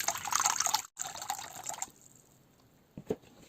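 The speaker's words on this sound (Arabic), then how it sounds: "أول شيء سنحتاج هنا إلى كمية من الماء يكون ساخن جدا" Very hot water pours into a bowl for a foot soak, a bright splashing stream running steadily for about two seconds with a brief break, then fading to quiet with a couple of small knocks.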